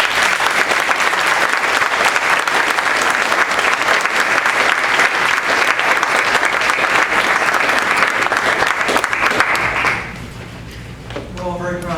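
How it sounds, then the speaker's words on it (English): Audience at a board meeting applauds steadily, a dense, loud wash of clapping that holds for about ten seconds, then drops away to quieter room sound with a brief voice near the end. "Have a round of applause,"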